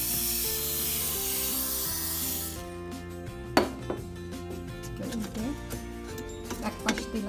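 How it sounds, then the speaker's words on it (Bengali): Oil is sprayed onto food in an air fryer as a steady hiss lasting a couple of seconds, followed by soft clinks and rustling of the basket and utensils at close range. "আমি একটু যাতে মানে ভাজাটা একটু ভালো লাগে খেতে সেই জন্য আমি একটু অয়েল স্প্রে করে"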